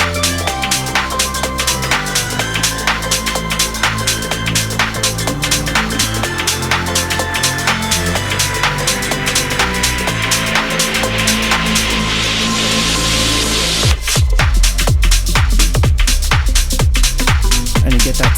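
A club remix pounds along with a steady beat and dense synth layers, then drops into a heavy, deep booming bass pulse in the final seconds, loud and continuous.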